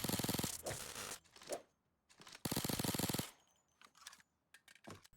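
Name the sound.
gunshots from the player's own weapon in the PAYDAY 2 video game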